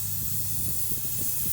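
An acetylene torch hisses steadily at close range while reheating compressor pipe, a continuous broadband rush with faint low rumbling pulses underneath and no voices.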